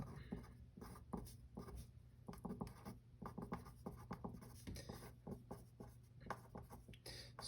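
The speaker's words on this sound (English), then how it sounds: "for note-taking purposes, I will write it out" An equation is written out by hand while working a strain rosette problem, with a steady, close scratching of pen or pencil on paper, strokes coming in quick irregular bursts over a faint background hum.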